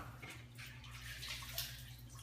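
A kitchen knife being lowered into a basin of water for washing gives soft, faint sloshing and trickling water sounds that continue steadily throughout, with no voices.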